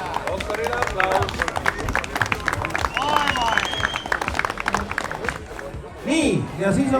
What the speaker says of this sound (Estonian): Doktorile aplaus!